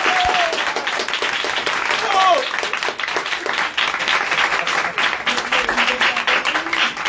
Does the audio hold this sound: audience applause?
yes